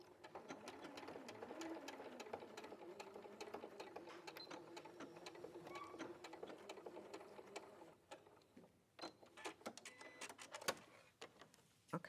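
A sewing machine stitches fabric in a quiet room, its rapid mechanical patter running continuously before breaking into a few separate clicks and short bursts toward the end.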